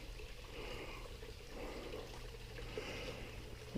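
A creek trickles and flows continuously, a faint, soft, steady wash of water with a low rumble of wind or handling noise underneath.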